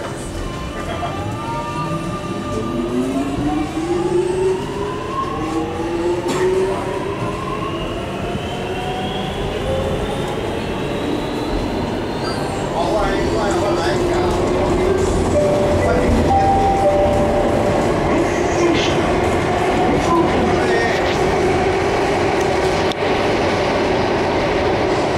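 Inside a moving Singapore metro train, a steady loud rumble of wheels on rail with rising and falling motor whine and some squeal, heard continuously and close with no talk.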